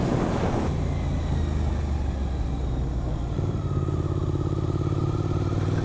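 A Suzuki GSX-8S motorcycle is ridden hard on a winding mountain road of tight bends, its engine roaring and rising close by as it accelerates out of a curve amid wind noise.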